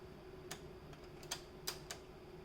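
A PIN goes in on an ATM keypad, about five faint, separate key clicks at irregular intervals over a steady machine hum, close by and with no speech.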